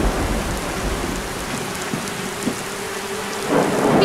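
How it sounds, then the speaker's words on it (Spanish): Heavy rain hisses steadily in a cartoon scene while rolling thunder rumbles underneath, ending in a louder crack near the end. No one speaks. "¡La lluvia es muy fuerte!"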